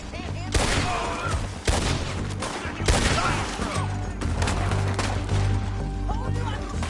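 Gunfire in the Red Dead Redemption 2 shootout among rocks: several loud, sharp shots and a sustained burst of firing, heard up close over a low rumbling game backdrop.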